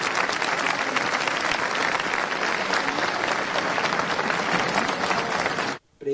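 A festival audience applauds for medical staff treating the pandemic, a dense, steady wash of clapping from a large crowd that holds loud and even throughout, then cuts off sharply near the end.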